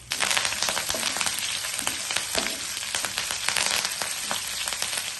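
Tempering spices crackle and sizzle in hot oil, a dense continuous fry with scattered sharp pops, close and steady throughout, no voices.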